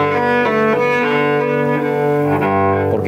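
Cello chords played separately ring out in a reverberant church, the rich sustained tones blending and overlapping as each chord shifts to the next, loud and full without any talking.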